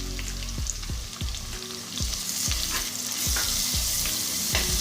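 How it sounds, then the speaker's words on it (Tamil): Crushed small onions and green chillies sizzle steadily in hot oil for cooker dum biryani, with a spoon scraping and stirring the pan in a regular rhythm of close, sharp strokes. "தட்டி வச்சுருக்கிற சின்ன வெங்காயத்தை இது கூட சேர்த்து நல்லா வதக்கி விட்டுடலாம்"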